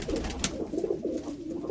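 Pigeons coo in soft, repeated rolling calls close by, layered over a constant low background hum, with no talk over them.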